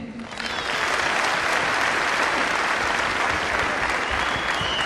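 An audience claps loudly for a company at a promotion event, the applause rising quickly from a softer start into a dense, sustained roar of many hands lasting several seconds.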